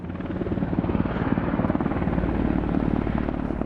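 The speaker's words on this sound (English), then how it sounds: "Chopper after chopper, dropping buckets in the lake here to take water up to the hill" Firefighting helicopters ferrying water buckets from a lake to wildfires on a hillside, a loud steady rotor chop throbbing continuously close by, with no talking.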